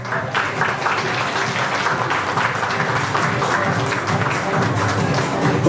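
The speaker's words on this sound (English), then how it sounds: "Let's give her a round of applause to Mr. Bryjan Aldunta-Lahag." An audience at an awards ceremony breaks into steady, loud applause, many hands clapping in a dense continuous wash that lasts the whole stretch.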